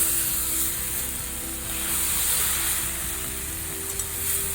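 Ash gourd frying over a medium-high gas flame in a pan, with a steady close sizzle and hiss that swells slightly midway, no voices.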